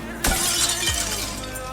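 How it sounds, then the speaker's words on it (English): Window glass shatters as it is struck with a welding pencil, a sharp loud crash followed by a scatter of falling fragments and a second smaller impact. "I used a welding pencil to shatter the glass and sprayed the water onto it."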